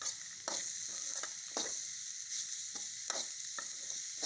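Ingredients for a spicy kara chutney sauté in a pan with a continuous close sizzle, broken by repeated sharp spatula scrapes and stirring knocks at irregular intervals.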